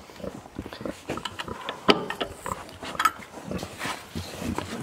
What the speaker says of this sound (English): I couldn't leave the video without letting the pigs out.